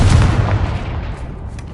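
Confringo fire blast spell cast in Hogwarts Legacy, a loud booming burst at the start that rolls off into a fading rumble, heard alone without voices.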